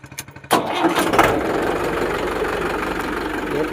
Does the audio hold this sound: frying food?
no